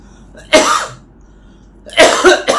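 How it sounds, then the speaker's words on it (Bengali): Two bursts of harsh coughing, a single cough followed after a pause by a double cough, close and loud against a quiet background. "কাশিটা কমছেই না কোনো অবস্থা"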